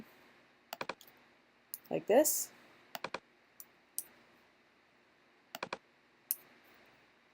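Keys click on a computer keyboard while editing in Photoshop, with scattered sharp taps in small clusters and a brief voice partway through.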